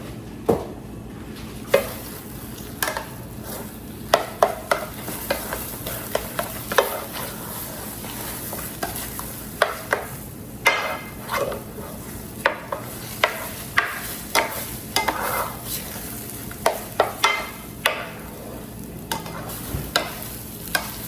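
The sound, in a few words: eggs cooking and being stirred in a pan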